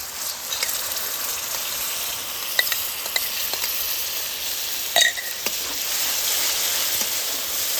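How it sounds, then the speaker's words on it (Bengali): Spice masala with Kashmiri chili powder, turmeric and whisked sour yogurt frying in oil in a village kitchen, a steady soft sizzle with occasional clicks of stirring, no talk. "মশলাটা একটু কষিয়ে নিয়ে দিয়ে দিচ্ছি হাফ চামচ কাশ্মীরি লঙ্কার গুঁড়ো, দিয়ে দিচ্ছি অল্প একটু হলুদের গুঁড়ো, ফেটিয়ে রাখা টক দইটা দিয়ে দিচ্ছি।"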